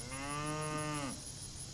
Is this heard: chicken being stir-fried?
no